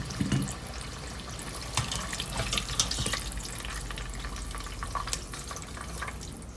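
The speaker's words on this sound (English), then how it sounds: "frying until they are tender on the inside, crispy on the outside, nice and golden brown." A steady sizzle of sweet potatoes frying in hot oil, soft bubbling and crackling continuing evenly throughout.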